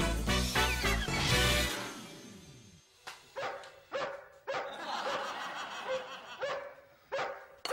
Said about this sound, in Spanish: que su perro deje de ladrar